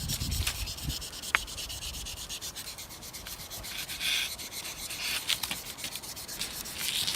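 A metal file rasps along a blade in repeated rubbing strokes, close and fairly quiet, with one sharp tick partway through.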